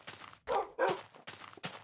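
Tamed dog in the Minecraft video game barking in a quick series of sharp, close barks with brief pauses between them, loud and clear with no talk over them.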